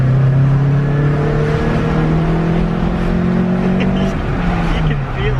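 A Toyota Starlet with a 4EFE engine running nitrous revs hard, its loud droning note holding and shifting in pitch close by, with voices talking over it.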